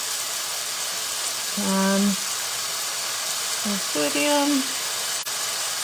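Continuous sizzling of chicken frying in a pan, a steady bright hiss, with a short spoken word heard over it.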